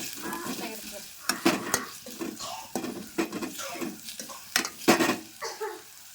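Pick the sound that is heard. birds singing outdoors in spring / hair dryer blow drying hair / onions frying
onions frying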